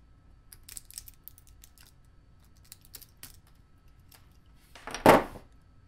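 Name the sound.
peeling support material off a 3D printed object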